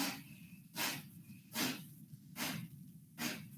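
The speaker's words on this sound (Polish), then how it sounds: "staramy się wydychać powietrze nosem w sposób dynamiczny" Forceful, rhythmic exhales through the nose during a desk breathing exercise, five sharp breathy bursts about a second apart, close and fairly quiet, with no speech.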